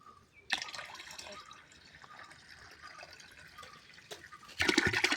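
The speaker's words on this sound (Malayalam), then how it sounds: "ഇനി 1 ലിറ്റർ വെള്ളം കൂടെ നമുക്ക് ഒഴിക്കട്ടോ." Water poured to top up a homemade liquid laundry detergent base, a steady splashing stream with a louder gush near the end, heard alone without talk.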